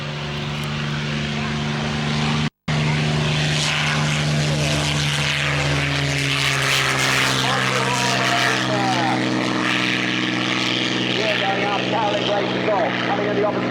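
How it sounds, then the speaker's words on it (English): A P-47 propeller fighter makes a loud, steady engine drone as it flies past at the Chailey airshow, with the pitch slowly shifting as it passes; a commentator talks over it. "with the P-47 going to the west"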